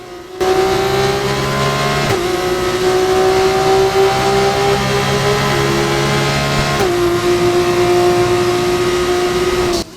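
Loud, continuous engine whine from an F2 race car on the final lap in a racing video game, the pitch rising steadily then dropping abruptly at two gear changes, with faint tire noise underneath and no voices.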